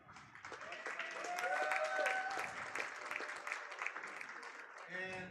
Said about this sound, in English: Please give a loud applause to our second place individual, Chad Rasnick.